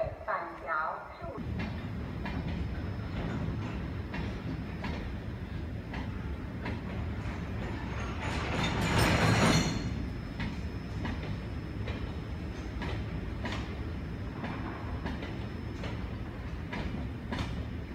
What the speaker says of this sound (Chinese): 第一月台即将有列车要通过，请各位旅客不要靠近月台边缘线为限